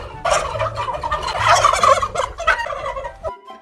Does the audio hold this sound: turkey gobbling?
yes